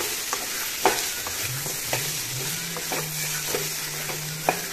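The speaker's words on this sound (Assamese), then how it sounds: "এইখিনি এনেকৈ ভাজিম তলপৰ কৰি" Leafy greens (datha xak) being fried and turned in a pan, steady crackling sizzle punctuated by regular spatula scrapes and taps, close up, with a low droning tone beneath.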